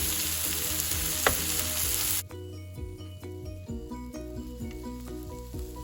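Kottu with chicken and cheese stirred in a hot pan after milk is added: a loud, hissing sizzle at first, then quieter frying under repeated metallic clanks and scrapes of the utensils.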